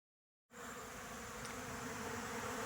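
Honey bees buzz around the hives in a dense, steady drone that starts suddenly after a half-second of silence and holds close and loud.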